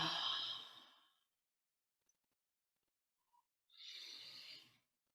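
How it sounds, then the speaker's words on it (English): Two deep breaths, a long breathy exhale fading out followed by silence, then a second soft breath, close and intimate in a quiet room before a chanting practice. "Center yourself with a deep breath."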